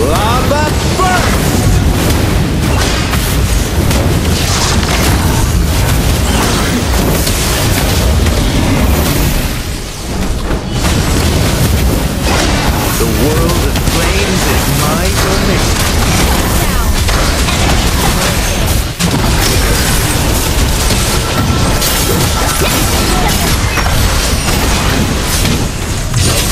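Lava Burst skill from the hero Valir in Mobile Legends: Bang Bang, dense rumbling fiery blasts and bursts layered continuously through a busy battle with game voices over them.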